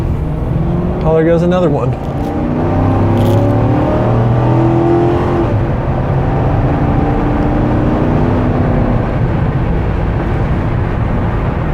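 Mercury Grand Marquis with a 4-speed automatic accelerating onto a highway, heard from inside as a steady, loud engine and road drone that rises slightly, with a person talking briefly over it near the start.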